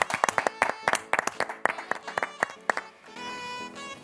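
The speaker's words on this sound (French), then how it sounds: "que l'on applaudit aussi" At an awards ceremony for community initiatives, a small audience claps for a prize-winning project: a handful of distinct, close hand claps in an uneven patter, fading into a sustained tonal hum at the end.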